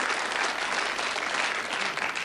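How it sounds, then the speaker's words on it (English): Studio audience applause on a quiz show, a short steady burst of dense clapping at moderate level. "Again, give them a round of applause."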